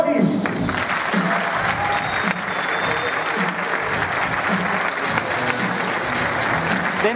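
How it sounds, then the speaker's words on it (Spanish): Audience at a comedy show at the César Manrique Cultural bursts into loud, sustained applause welcoming comedian José Dóniz, with a few voices audible at the start. "ahora que lo recibamos con un fuerte aplauso a mi amigo José Donis"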